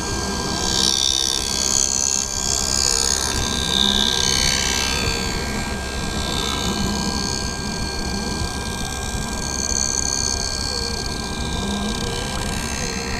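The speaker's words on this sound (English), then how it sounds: "now it's going to have the bevel placed onto the edges" A lens edger machine grinds a bevel onto the edges of prescription lenses for Ray-Ban 5154 Clubmaster frames, a steady loud mechanical whir and grinding hum that runs without a break.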